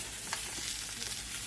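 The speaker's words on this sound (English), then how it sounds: "I got the chicken on stir frying" Chicken stir-frying in a pan gives off a steady, close sizzle with soft crackles that runs unbroken through the moment, with no talking over it.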